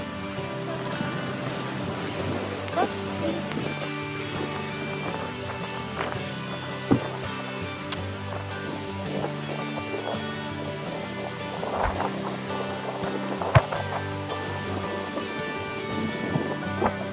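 Strong wind and rain lash a campsite in Tanay around a Foton Tornado M2E camper van, a dense, continuous roar broken by scattered thumps and gusty bursts, loud and close throughout.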